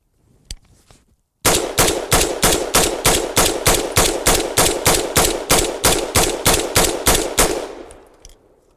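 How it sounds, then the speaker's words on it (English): A semi-automatic rifle fires a rapid string of about 30 rounds in a loud, steady rhythm of sharp close reports, ending with fading echo after a couple of earlier faint clicks. "That's as fast as this rifle can shoot."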